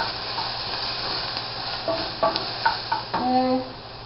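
Chopped tomato stirred by hand into a sizzling pan for Spanish rice: a steady close frying hiss, with a few light clinks and scrapes toward the end.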